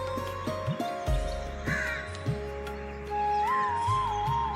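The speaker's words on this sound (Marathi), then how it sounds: "व्हिडिओ चालू असताना मस्त पक्ष्यांचा एकदम छान आवाज येतोय" Crows caw repeatedly in a calm morning setting, with other birds calling in the background; the caws come in short clustered bursts at moderate distance over a steady outdoor ambience.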